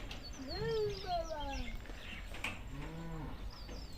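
A pure mini Jersey heifer calf, biscuit-coloured, moos twice at a farm: a long, rising and falling call followed by a shorter, lower one, close by over faint background noise.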